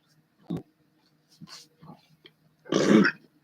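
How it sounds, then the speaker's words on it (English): A few faint clicks and breaths lead into one loud, low, drawn-out burp close to the microphone. "Excuse me. I burped."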